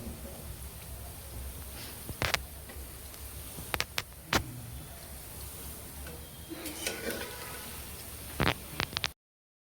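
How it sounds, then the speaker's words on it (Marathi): Khoa gulab jamun fry in oil with a steady soft sizzle over high heat, broken by a few sharp clicks and taps of a utensil against the pan. "थोडंसं अजून लाल करते. मस्त भाजलेले आहेत."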